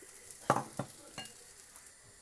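Onion paratha cooking in butter on a pan over medium heat, a soft steady sizzle broken by a few clear scraping and stirring strokes of a spatula, close and fairly quiet.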